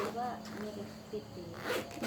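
A zipper on second-hand clothing being zipped and tested, making brief rasping bursts close by amid people talking.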